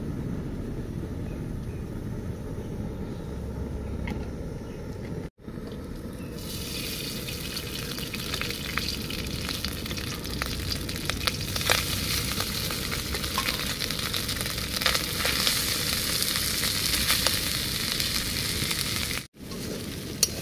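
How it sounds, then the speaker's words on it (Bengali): Cooked rice frying in ghee in a pan beside a jungle canal, a steady close sizzle with faint stirring scrapes running continuously for about twenty seconds, with two brief dropouts and no talk. "তাই আমরা ঘি দিয়ে সুন্দর করে ভাতটাকে একটু ভেজে নেবো।"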